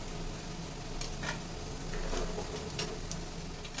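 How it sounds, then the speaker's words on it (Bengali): Steady, moderately loud sizzling of poha cutlets frying in a pan, with occasional soft clicks and scrapes over the continuous crackle. "এরকম করে ভেজে নেব এরকম করে একটু ধরে রাখলে সাইডগুলোও ভাজা হয়ে যাবে"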